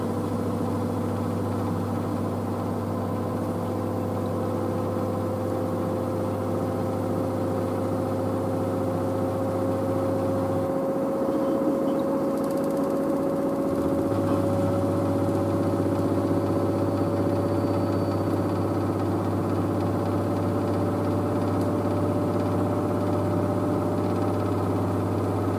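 LG DirectDrive F1496AD washer dryer drum turning during a wash cycle, a steady loud mechanical hum with a constant tone that briefly drops out midway, continuous throughout with no talk.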